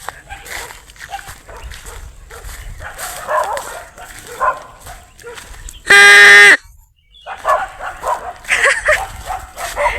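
Village dogs barking, a run of loud yips and bow-wows near and far, broken by one very loud burst and a short silence.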